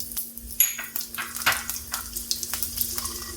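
Cumin seeds and chili sizzle in hot oil in a pan for kodo millet poha, a steady close crackling fry broken by a few sharper stirring clinks and scrapes, with no voices.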